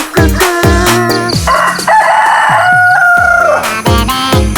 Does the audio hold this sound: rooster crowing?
yes